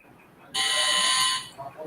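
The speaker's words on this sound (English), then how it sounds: "I will be pressing a buzzer which will sound like this" A presentation timer buzzer at a pitching event sounds once as a loud, steady electronic tone lasting under a second, cutting off abruptly into quiet room noise.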